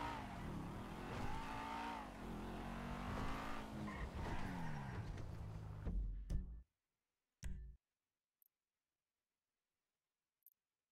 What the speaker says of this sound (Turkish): Lan spor araba.